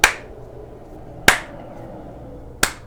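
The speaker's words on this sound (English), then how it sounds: "A slow clap." Three slow, deliberate claps ring out alone, each spaced over a second apart in an otherwise quiet room.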